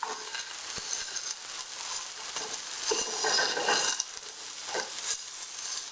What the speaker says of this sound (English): Turning them all over. Getting them nicely browned on the other side.